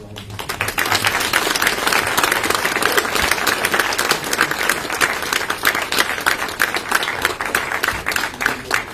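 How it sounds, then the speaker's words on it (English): A church congregation applauds new confirmation students, a sustained, fairly close burst of many hands clapping that continues steadily for several seconds. "Let's give them a round of applause."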